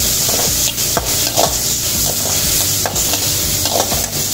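Big onions being stirred and sautéed in a pan for a shark fish puttu, with a steady loud sizzle and repeated scraping stir strokes close up, no voices.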